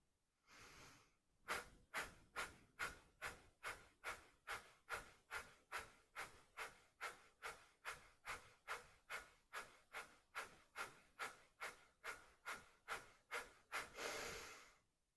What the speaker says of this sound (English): Continue breathing deeply, or option to apply Kapalabhati Pranayama.